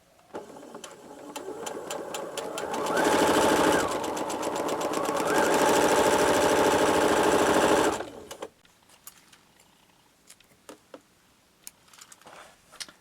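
A sewing machine runs along a drawn diagonal line on quilt fabric in one steady, buzzing burst of several seconds that stops abruptly, followed by faint clicks and handling noises.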